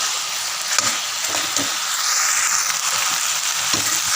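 A fish curry fries steadily in a pan as pieces of sour mango go in, making a constant close hiss with a few soft, low knocks and stirring sounds.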